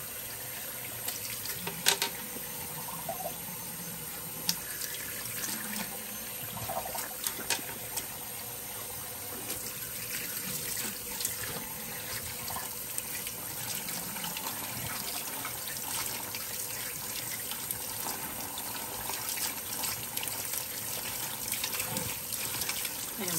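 Water runs steadily and quietly from a tap while glass is washed and scrubbed for fusing and printing, a soft continuous stream with faint clinks and handling noises and no talking.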